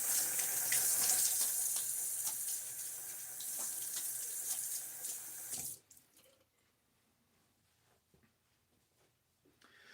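Tap water runs steadily into a sink as a razor is rinsed after a shave, a loud continuous splashing that cuts off abruptly partway through, leaving a quiet room with faint drips and small handling noises.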